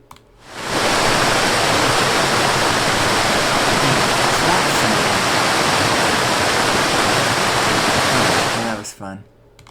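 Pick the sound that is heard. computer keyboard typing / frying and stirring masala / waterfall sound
waterfall sound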